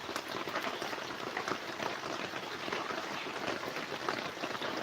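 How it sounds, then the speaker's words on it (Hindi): Heavy rain falls in a dense, steady hiss with no pauses. It holds at an even, moderate level throughout and has no voices over it. "बारिश बहुत तगड़ा हो रहा है।"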